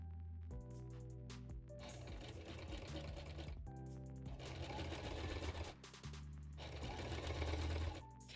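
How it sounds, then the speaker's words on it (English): A sewing machine stitches cosplay fabric in rapid mechanical bursts, running, pausing briefly and starting again, close and steady with a rhythmic whirring chatter. "being on my sewing machine a lot this like month"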